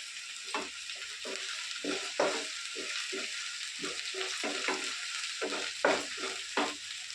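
Ginger paste and curry leaves frying in a pan, a continuous soft sizzle broken by a steady series of close scraping and stirring strokes of a spoon against the pan.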